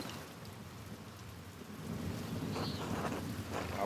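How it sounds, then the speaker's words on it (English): Rain pours steadily in the game Pentiment while thunder rolls in low and builds partway through, the storm swelling louder with no voices. "Look at this rain."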